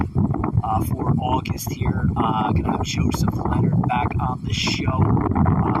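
Low, rumbling wind buffets the microphone throughout, steady and loud beneath someone talking.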